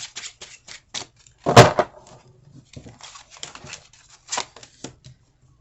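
Tarot cards being shuffled close by, a few short riffles and taps with one louder burst of flapping cards, otherwise quiet.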